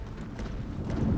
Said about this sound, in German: Nee, ich höre Stampfen.